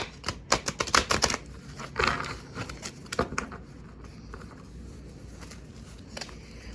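Oracle cards being shuffled, heard as quick, close, papery riffles and taps in short bursts that fade to quieter handling, with no one talking.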